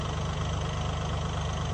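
A 39-horsepower Massey Ferguson 1840 diesel tractor runs a Woodland Mills wood chipper from its PTO, producing a loud, steady, close engine drone with no break.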